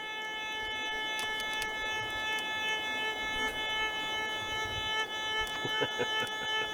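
A Fisher Labs Gold Bug metal detector hums a steady threshold tone while it is ground balanced a little hot, with the pitch swelling slightly now and then, close and without talk.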